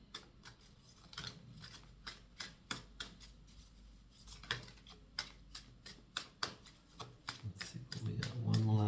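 Earth Magic Oracle cards are shuffled by hand, giving a quick run of crisp riffling snaps and soft clicks in an irregular rhythm, close and fairly quiet, ending in a brief low shuffle.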